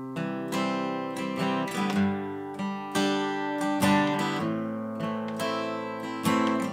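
Acoustic guitar picking single bass strings, then strumming a chord in a steady up-down pattern, close and clear with no voice over it.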